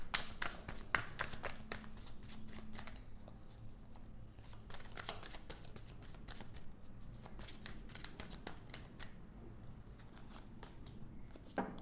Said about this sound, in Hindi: उसके लिए मुझे एक कार्ड निकालना है